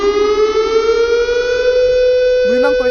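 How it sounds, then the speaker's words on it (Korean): A civil defense style siren wails steadily at a port dock, a loud sustained tone with rich harmonics holding nearly level, with a brief wavering note near the end. "이 부두에서 사이렌이 울린다"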